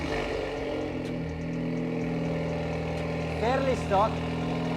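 A heavily customized wide-body Ford Focus ST idles with a steady, loud engine drone, and a brief swell rises near the end while people talk nearby.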